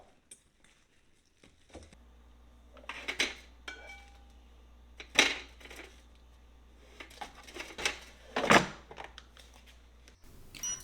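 Seasoned corn on the cob placed into an air fryer, with scattered clinks and knocks of the basket and metal parts at close range, alongside a low steady hum.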